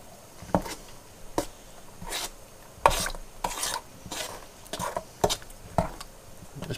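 Lime gelatin mixture being stirred with about 1.5 cups of boiling water in a pan, giving a series of separate clinks and scrapes of the spoon against the pan at an uneven pace, close up and moderately loud, with no talk.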